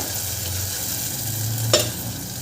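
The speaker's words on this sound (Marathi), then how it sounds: "आणि याला छान शिजवून घ्यायचं आपल्याला ही पालकाची प्युरी 2-3 मिनटं" Spinach puree cooks in a pan for a spinach pulao and is stirred, giving a low steady sizzle with one sharp scrape of the spoon near the end.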